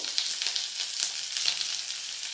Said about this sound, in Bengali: এবার আমি কড়াইতে একটু তেল দিয়েছি। ওখানে কিছুটা পেঁয়াজ দেবো, বড় সাইজের একটা পেঁয়াজ দিয়ে দেবো।